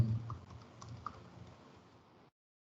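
Rapid typing on a faulty computer keyboard, a dense run of soft clicking keystrokes up close that thins and stops partway through, with no talk.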